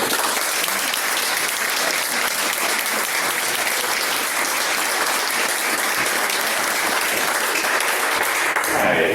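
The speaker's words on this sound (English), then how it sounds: "if you'll join me in a round of applause, we'll present Dr. Quincy Williams with this Rotary pin and welcome him as our new member" A Rotary club meeting breaks into a long, steady round of applause to welcome a new member receiving his pin, many hands clapping in a dense, even roar that carries unbroken for several seconds.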